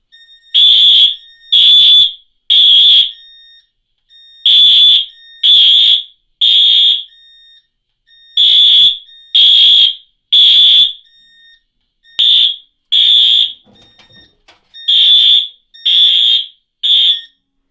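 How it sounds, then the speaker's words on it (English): An EST fire alarm panel system, triggered by an EST SIGA single-action pull station in a three-zone setup, sounds loud repeating horn bursts in uneven groups of three with short gaps, alone without talk. "We will begin with the 3-zone system and pull the EST SIGA single action pull station."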